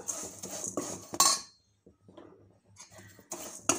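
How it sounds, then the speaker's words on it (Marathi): A metal spoon scrapes and clinks against a pan while vermicelli roasts for shevai kheer, in irregular close stirring strokes with a quiet pause in the middle. "कंटिन्यू तुम्ही फिरवत राहा आणि थोडा कलर शेवयाचा कलर थोडा चेंज होईपर्यंत याला आपण रोस्ट करून घेऊया।"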